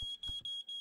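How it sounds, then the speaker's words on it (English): A fire alarm in a horror video game sounds as a loud, piercing electronic tone in repeated pulses, about three short bursts separated by brief gaps, with no talking. "Did you set off the fire alarm?"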